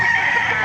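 A rooster crows briefly at the Lipa chicken auction market. It is a short, loud, nasal call close by, cut off after a fraction of a second.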